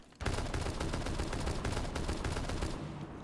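DMR rifle firing in Rainbow Six Siege, a rapid run of sharp, evenly spaced loud shots that carries on for about three seconds with no pauses.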